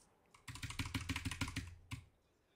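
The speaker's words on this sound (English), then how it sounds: "He can hear the keyboard." A quick burst of computer keyboard typing during Fortnite play, a dozen or so crisp key clicks in rapid rhythm, close up and alone.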